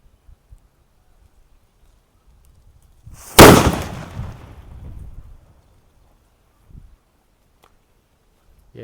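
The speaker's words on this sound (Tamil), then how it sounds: "நாட்டு வெடி வந்து செம்ம பவர்" A nattu vedi paper firecracker goes off in one sharp, loud bang outdoors, followed by a few seconds of crackling, rustling debris, with quiet surroundings before and after.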